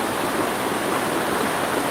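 Steady, dense hiss of heavy rain pouring down in Wayanad, constant and close with no pauses.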